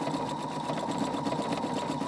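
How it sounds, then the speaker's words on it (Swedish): Sewing machine running a decorative star-pattern stitch on a circular cloth, a continuous close, buzzing mechanical whir with a fast regular pulse and no talk. "Och så startar jag. Och nu syr den här stjärnor här."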